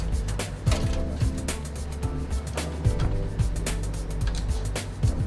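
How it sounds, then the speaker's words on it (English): Screws being tightened into a system module casing, repeated close ratcheting clicks and mechanical taps in an irregular rhythm over a low steady hum. "Secure and tighten with screws."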